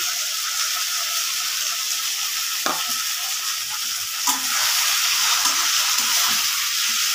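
Chopped tomatoes fry in a spice mixture in a pan for khichuri, giving a loud, continuous sizzle. Occasional scraping stir strokes cut through, and no voices are heard.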